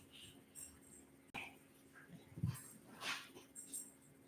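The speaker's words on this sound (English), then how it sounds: "I have a new dog. Sorry, that's what you guys hear." A new dog whimpers and yips faintly in a quiet room, giving a few scattered, soft vocal sounds under a low background hum.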